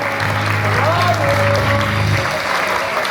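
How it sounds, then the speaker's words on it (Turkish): Steady, loud applause fills a theatre at the finale of a ballet performance, dense and continuous from start to finish, with a faint sustained tone and crowd murmur beneath. "Onlara bir kocaman alkış diliyorum ve onları sahneye rica ediyorum."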